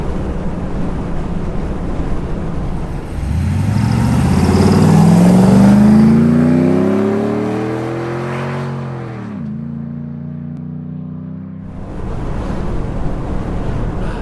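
A Jeep project vehicle accelerates hard on the road, its engine rising loudly through the gears with a shift dip and then easing off, all under heavy wind rush.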